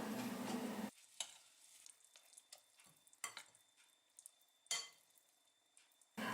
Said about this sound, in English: Stir all together.